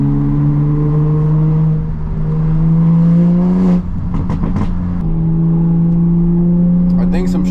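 A 500hp MK5 Supra with a loud exhaust cruises a canyon road, its engine droning steadily from close by inside the cabin, with pitch dips and revs between gear changes; a person talks over it at times.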